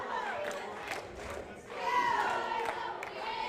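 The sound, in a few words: loud basketball crowd cheering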